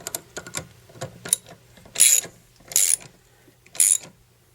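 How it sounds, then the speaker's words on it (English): Wrench ratcheting as the drain plug is tightened back into an Atwood RV water heater, with rapid close clicks followed by three louder ratchet strokes. "we're going to put the plug back in and we're going to tighten it back down"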